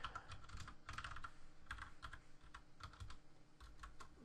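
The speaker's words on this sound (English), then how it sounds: "I apologize if my keyboard's a little bit loud. I am using a mechanical keyboard." Brisk clacky typing on a mechanical keyboard, bursts of keystrokes with short pauses, close and clear with no talking.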